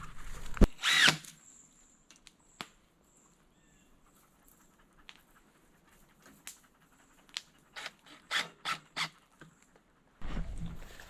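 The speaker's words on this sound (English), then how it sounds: "I'm going to grab my drill, then I'll put up my sign" A power drill whirs in several short bursts, trigger pulses, with a louder burst near the start and another at the end, in a quiet space.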